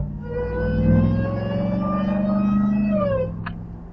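A Dodge Hellcat truck's engine revs with a steady, loud whine that climbs in pitch for about three seconds, then drops off sharply. A short higher burst follows near the end.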